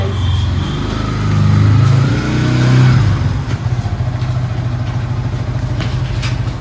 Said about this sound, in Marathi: इस तरीके से ये पार्क कर रहा है अपनी बाइक.